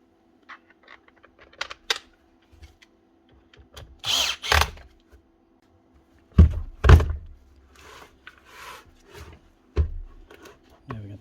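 Handle screws being driven during reassembly of a Bosch GBH 8-45 D rotary hammer, with short bursts of driver whirring and thunks of parts set down between quiet gaps, close by with no talk.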